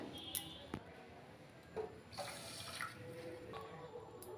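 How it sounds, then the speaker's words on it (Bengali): Water poured into a pan for sugar syrup, soft splashing and trickling bursts with a few sharp clinks, quiet and intermittent against low background. "ওই বাটি মেপেই আমি দেড় বাটি জল দিয়ে দেবো"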